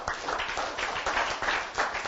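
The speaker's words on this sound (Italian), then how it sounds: "ma dai, fatevelo, va un applauso." Applause for a group of children at a youth cycling race event, a steady wash of many hands clapping that holds at an even level throughout.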